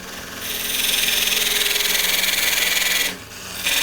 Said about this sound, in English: I just want to grab a skew. There it is. And just come in here and make a dovetail.